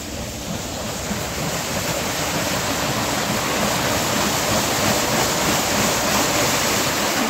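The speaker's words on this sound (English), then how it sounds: "You can see the paddle turning here down below." Steady, loud churning rush of water from the paddle wheel of the La Crosse Queen riverboat on the Mississippi River, a continuous broadband wash with no breaks and no voices.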